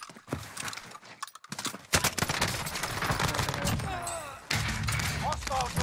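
Gunfire crackles through a video game battle, with dense bursts and rattling volleys that swell loud after a quiet start, while players talk over the shooting.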